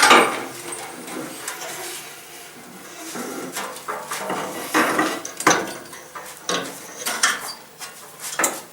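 Rear axle assembly being pulled from a Nissan D21 Hardbody pickup truck, with scattered metallic clanks, knocks and scraping taps in an irregular rhythm, close and moderately loud, no talking.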